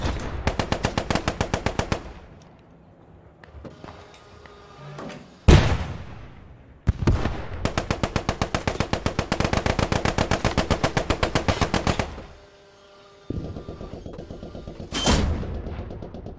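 Automatic weapons rattle in Post Scriptum, long rapid bursts broken by pauses, with a few heavy single blasts and slams between them, loud and close with no voices.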